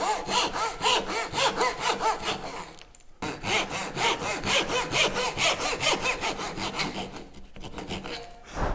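A hand saw cutting a wooden dovetail joint for a book stand, a steady close rasping push-and-pull rhythm of fast regular strokes, pausing briefly twice before resuming, loud and with no voices.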